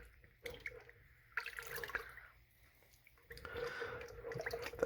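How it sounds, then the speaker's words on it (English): A spoon stirs peanut butter syrup into a wet mixture, producing soft, irregular squishing and sticky sloshing sounds that swell and fade in uneven strokes, close and fairly faint. "And we are going to stir that up."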